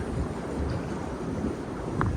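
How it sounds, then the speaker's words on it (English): Air blowing liquid fertiliser back through a pipe into a fertiliser bowser tank on a farm, giving a steady low rushing gurgle with a brief sharper bubble near the end, no talk. "So that's air blowing this back in there. And there, you can hear that bubbling."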